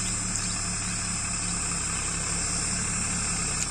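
A Mahindra 50 HP 4x4 tractor hauling a fully loaded trolley runs its engine at a steady, even drone with a constant hum and no change in pace, with no voices.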